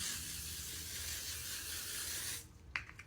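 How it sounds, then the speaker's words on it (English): Makeup setting spray is misted in a steady hiss lasting over two seconds, stopping abruptly, followed by a brief faint handling rustle. "So we're going to go ahead and spray this."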